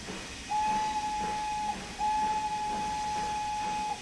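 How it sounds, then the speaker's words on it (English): A steam locomotive whistle in Train Sim World 3, on the Peak Forest Railway, sounds two steady sustained blasts, a short one followed by a longer one, clear and loud over a low rumbling background. "I personally really love the whistle in this train"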